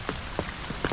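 Rain falls outdoors as a steady hiss and patter, with a few louder drips tapping a surface at irregular intervals, close and continuous.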